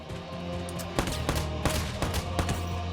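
Gunfire in the PS4 game Valkyria Chronicles 4 comes as a run of sharp shots, roughly every third to half second, over a dense, constant battle-noise bed.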